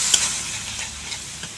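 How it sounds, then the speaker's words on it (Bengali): Spice paste for a fish and bottle gourd curry fries in a pan with a splash of water, a soft, even sizzle with a couple of light ticks from the spoon. "সামান্য জল দিয়েছি, এখন মশলা ভালো করে কষিয়ে নেব।"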